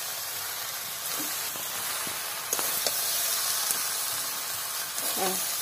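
Half-ripe jackfruit curry sizzles and hisses steadily in a pan as it is sautéed, with a few scraping stirs of a spatula rising briefly above the frying noise.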